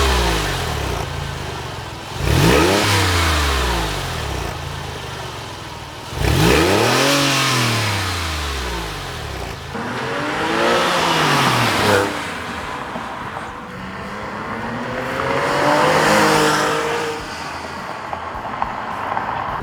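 Stock 3.6-litre engine of a Porsche 996.2 sports car revved several times, each blip sweeping up and falling back to idle, roughly four separate revs spaced a few seconds apart, loud and close.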